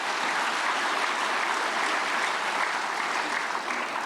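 A church congregation applauds together in one steady, dense wash of clapping that holds loud and even from start to finish, with no voices standing out.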